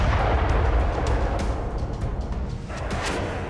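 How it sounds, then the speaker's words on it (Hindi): Explosions from Russian FAB-3000 bomb attacks in Kharkiv's Lyptsi area, heard as a loud, continuous heavy rumble with dense low booming and scattered bursts, no voices. "खार्किव के लिप्सी में रूसी सेना अब फैब 3000 बम से घातक हमले कर रही है"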